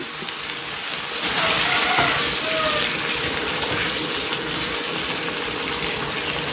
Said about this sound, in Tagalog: Maglalagay ako dito ng tubig.